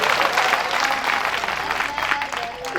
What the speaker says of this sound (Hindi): तो आप तालियां बजा दीजिए